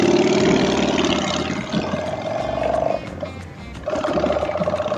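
A Honda Shadow motorcycle engine runs with a steady, throaty rumble close by, its pitch rising briefly, dipping for a moment and then settling back to a constant idle-like drone.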